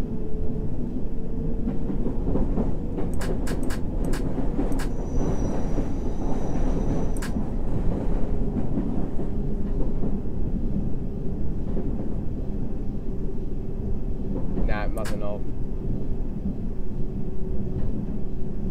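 A London Underground train in the World of Subways 3 simulator rumbles steadily and loudly for the whole stretch, with a deep continuous roar, brief high clicks and squeals partway through, and no talking.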